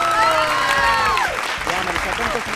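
A studio audience at a television game show clapping loudly. A dense burst of applause starts the clip, then fades under voices that are talking.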